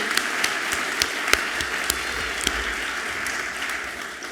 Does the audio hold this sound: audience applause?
yes